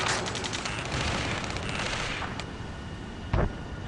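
Dense gunfire and explosions from a combat scene in the video game Air Combat 7, a continuous roaring barrage with a sharp nearby blast near the end.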